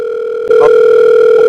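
A steady telephone line tone fills the clip, loud and close, starting abruptly after a short lower hum, with a brief faint blip partway through, on a live call-in show line.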